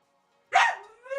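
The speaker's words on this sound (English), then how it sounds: "And there's the little guy barking." A small dog gives one sharp, close bark that trails into a short whimpering whine, then another brief yelp, heard indoors with no talking.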